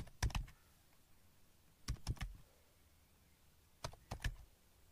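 Bursts of computer keyboard typing as names and marks are entered as data in Microsoft PowerPoint 2016, coming in three short clusters of quick keystrokes separated by quiet pauses, close and fairly soft.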